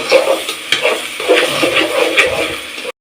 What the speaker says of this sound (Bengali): চালটাকে একটু লাল লাল করে ভেজে নেব।